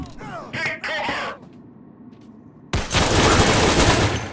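Sustained gunfire from the VR shooter game Crisis VRigade 2, a loud dense burst filling the last second and a half, preceded by brief talk and quieter game ambience.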